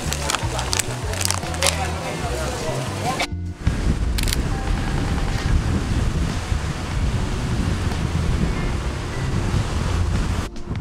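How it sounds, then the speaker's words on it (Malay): Strong wind buffets the microphone along with the steady roar of sea waves at a seaside cafe near Kuala Perlis. A voice speaks over it at the start, then the gusty surf noise continues loud and unbroken. "Berangin je weh."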